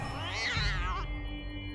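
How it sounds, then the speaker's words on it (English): A spectral ghost cat meows in the video game Hero-U: Rogue to Redemption, one drawn-out, wavering cry over a low ambient game hum that fades to quiet background. "Ghost Cat Chintani"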